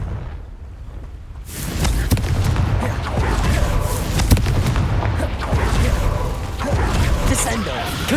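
A Confringo spell explosion in the Hogwarts Legacy video game, starting after a quiet moment with a loud booming blast that rolls into sustained crackling, rumbling destruction, with a voice over the noise.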